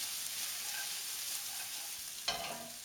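Fried rice stirs and sizzles steadily in a hot pan, a soft continuous frying hiss with a sharper scrape of the spatula near the end, no voices.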